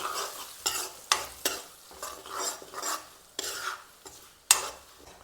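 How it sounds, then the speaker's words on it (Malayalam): Kashmiri chili, plain chili and turmeric powders stirred into a hot pan, heard as about eight distinct scraping strokes of a spoon against the metal over a soft background sizzle, close up and without talk. "പൊടികളായിട്ട് കാശ്മീർ മുളക് പൊടി സാധാ മുളക് പൊടി മഞ്ഞൾപ്പൊടി ഇവ ചേർത്ത് കൊടുക്കുക നല്ലപോലെ മിക്സ് ചെയ്യാം"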